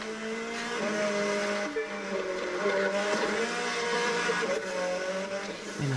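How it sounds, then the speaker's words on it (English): A rally car engine in the video game The Crew 2 roars steadily, its pitch climbing and falling in sustained, loud surges, with a racing-car whine throughout. "Listen to the engine. It's sick."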